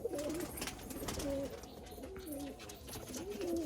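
Malwai pigeons cooing close by in repeated soft rolling phrases, several coos over a hum of background noise.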